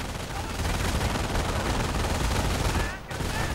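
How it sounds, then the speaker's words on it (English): Dense machine-gun fire rattles continuously in a real-time strategy battle, with overlapping gunshots and rumbling blasts. The din stays loud and unbroken apart from one brief dip, and commentary voices run underneath. "the riflemen simply getting hammered by too much MG fire"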